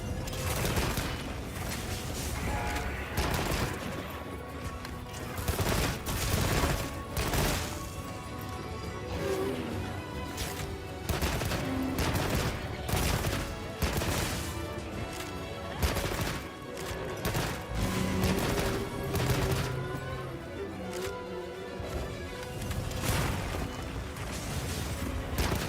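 Repeated gunfire aimed at a monster in a video game, sharp shots and crashes recurring throughout over a busy background of game music and effects.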